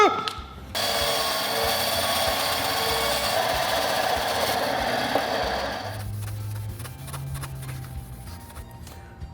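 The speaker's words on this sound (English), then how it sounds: "Sanded it so it's got a little tooth." Power sanding a leftover foam piece for a prop tool gives a steady, loud whirring grind that runs for about five seconds, then drops to a quieter hum and rattle.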